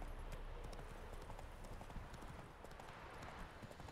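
Horse hooves gallop in a steady clip-clop rhythm in The Witcher 3, a continuous fairly close run of rapid beats over a low game ambience.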